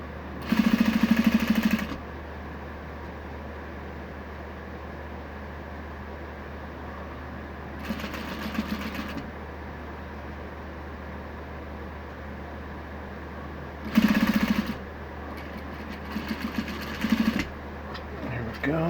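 Juki 8700H industrial sewing machine stitching a shoulder pad, with three loud bursts of rapid running stitches separated by pauses, over a steady low motor hum in the background.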